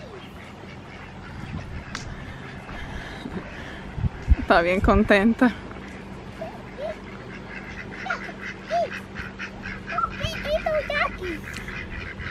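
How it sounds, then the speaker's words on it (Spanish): Several ducks quack in short bursts close by while being fed at a park, amid outdoor crowd noise and someone speaking. "Ella le está dando de comer a los patos."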